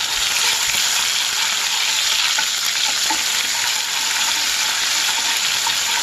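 Chillies and ginger garlic paste sizzle steadily in a hot pan while being stirred, a close, continuous loud frying hiss with soft scraping underneath and no speech.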